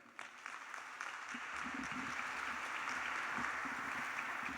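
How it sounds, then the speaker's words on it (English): An audience at a graduation ceremony breaks into a warm round of applause, the clapping swelling quickly and holding steady as a dense, even wash of many hands in a large hall. "Please give a warm, rapturous round of applause to the other founding father of the Two Oceans Graduate Institute"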